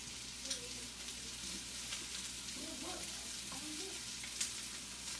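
Mushrooms fry in an oiled pan, a quiet steady sizzle with faint crackles and occasional soft clicks of stirring throughout.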